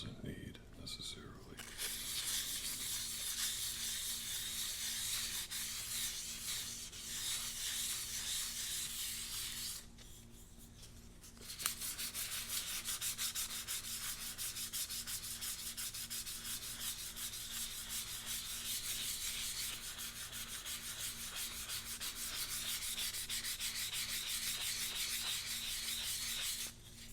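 Sandpaper rubbing steadily over natural wood in close, continuous strokes for most of the stretch, with a brief pause partway through; a soft, dry, even scratching texture.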